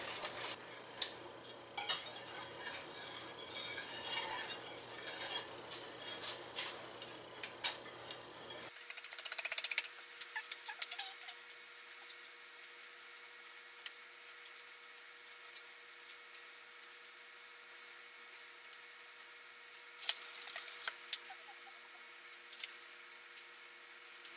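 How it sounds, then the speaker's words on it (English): Icing sugar mixture being whisked in a bowl for a birthday cake, a quick rattly metallic scraping that runs steadily at close range with no talking. "Whisk this. Until the sugar is dissolved."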